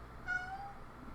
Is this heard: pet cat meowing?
yes